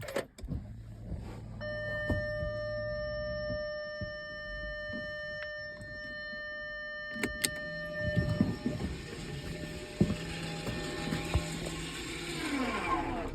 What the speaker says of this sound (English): By applying the handbrake, the electronic motor will wind the pistons out and they will find their new position.